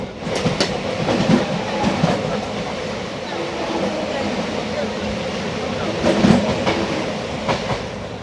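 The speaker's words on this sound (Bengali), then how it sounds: "দেখো ট্রেন কিন্তু মোটামুটি একশো দশ স্পিডেই চলছে" The Hool Express runs at about 110 km/h on ICF coaches, giving a continuous loud rumble with rhythmic clickety-clack from the wheels and occasional sharper rattles as a person talks over it.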